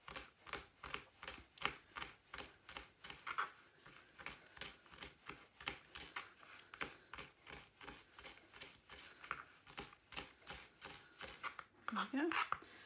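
Knife chopping a pizza topping on a board, one of cheese, mushroom, pepper or spring onion, in rapid even strokes that repeat steadily and close up, with a brief voice near the end.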